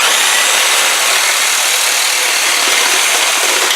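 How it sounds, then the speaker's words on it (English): A reciprocating saw cuts a two-foot piece in half, a loud, steady, dense buzzing rasp that runs without a break and stays close throughout. "I'm just going to cut with my reciprocating saw. I'm going to cut this 2-foot piece in half."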